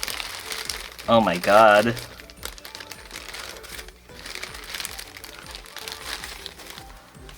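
Plastic wrapping crinkles and rustles as a Houshou Marine 1/7 scale figure is unboxed, heard close up in bursts alongside an excited voice that talks over it.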